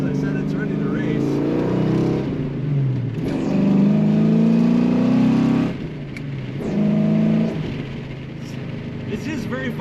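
A green 1991 Ford Mustang Notchback, race-ready, accelerating on the road: the engine note climbs and falls through repeated throttle pushes with gear changes between, loud and close throughout.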